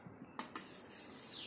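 Eggs beaten and stirred in a bowl for an omelette, with a couple of sharp utensil clicks against the bowl followed by a soft steady scraping swirl, faint and close.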